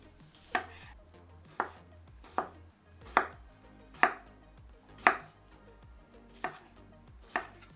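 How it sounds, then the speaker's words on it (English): Sharp knife strikes on a cutting board finely chopping tomato, about eight distinct chops in an uneven rhythm, close and clear with no talking. "finely chop up the reserved tomato as well as the tomato guts from before"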